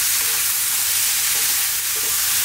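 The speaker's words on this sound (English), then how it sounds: "we're just going to dry fry this around for about 2 more minutes on an above medium heat" Black-eyed peas dry frying in a pan over above-medium heat, giving a steady close sizzle with soft scraping as they are stirred around.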